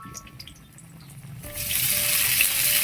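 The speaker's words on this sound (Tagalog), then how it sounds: "kumukulo na" A pot of sinigang na pompano soup bubbles at a rolling boil, the steady hiss and gurgle swelling louder halfway through and holding close and continuous.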